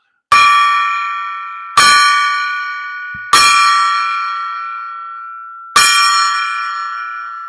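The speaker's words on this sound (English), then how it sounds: "I love the gong. I'll ring it 4 times for you today." A gong is struck four times at uneven intervals, and each loud metallic strike blooms into a bright shimmering ring that decays slowly and is still sounding when the next hit lands.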